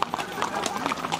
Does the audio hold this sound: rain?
no